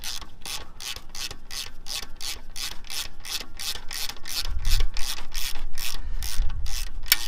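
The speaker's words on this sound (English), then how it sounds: "Now we'll go ahead and remove this top 14 mil fastener." Ratchet wrench loosening a 14 mm top fastener during alternator replacement on a 2008-2016 Chevrolet Cruze 1.4: a steady run of about twenty close, crisp clicks, with low rumbling knocks from the engine bay near the end.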